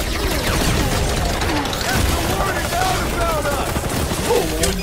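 Dense, continuous gunfire and combat clatter in the Marvel Guardians of the Galaxy video game, loud and close throughout, with scattered effects and a voice talking over the din.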